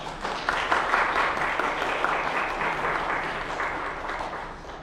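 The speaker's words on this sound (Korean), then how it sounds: "우리 한 박수로 환영합니다" Church congregation at a Sunday service in an Atlanta Presbyterian church applauding to welcome visiting guests, a steady, moderately loud wash of clapping sustained throughout without speech.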